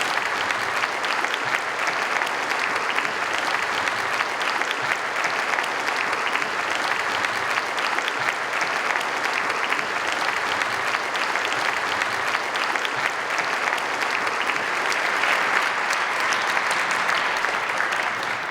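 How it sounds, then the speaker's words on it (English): Concert-hall audience at a keyboard music festival gives a sustained round of applause for graduating seniors, a dense, even roar of many hands clapping, loud and unbroken with no talk. "How about a nice round of applause for our graduating seniors?"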